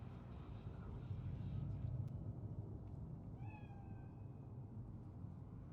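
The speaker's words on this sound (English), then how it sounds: "It's just a cat." A single cat meow rises clearly near the middle of a Cyberpunk 2077 game scene, set over a low, continuous ambient rumble.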